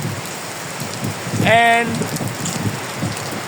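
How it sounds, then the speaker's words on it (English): Rain falls steadily during a night bike ride at an NTU bike rally in 2025, a constant close hiss of drops across the whole stretch. A brief voice cuts in partway through. "we didn't expect the rain to come"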